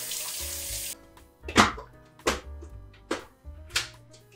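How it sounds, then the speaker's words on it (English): Warm water runs from a tap during handwashing at a kitchen sink, a steady broadband hiss at first, then several short splashing bursts as hands move under the stream. "I'm going to wash my hands in some warm water."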